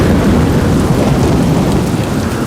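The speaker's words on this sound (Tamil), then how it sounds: "நம்ம காட்டுல இப்படி மழை பெய்யுது" Heavy rain pours down in a forest during a thunderstorm, a dense, loud, continuous roar of rainfall with deep rumbling thunder underneath and no speech.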